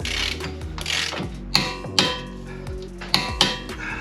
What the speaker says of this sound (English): So the axles get tightened to 134 foot-pounds.